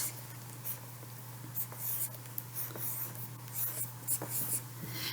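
A permanent marker writes in large letters on a notebook cover, giving soft squeaky strokes with short pauses, close and quiet over a low steady hum.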